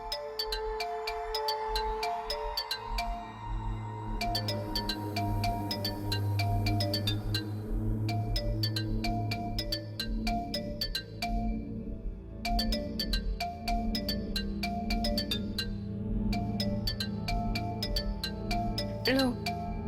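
A phone ringtone plays repeatedly in a Hindi TV serial home scene, a bright melodic ringing in bursts for about twenty seconds over a steady background music bed.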